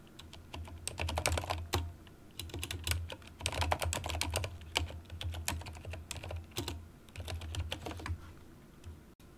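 Someone types an HTML comment on a computer keyboard, with quick close clicks of keys in bursts and a few short pauses, plus a low steady hum beneath. Nobody speaks.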